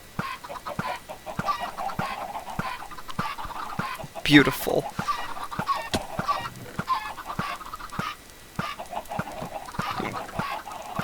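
Minecraft chickens clucking in a steady, repeated pattern of short clucks, with one louder burst partway through and a single spoken word from a voice.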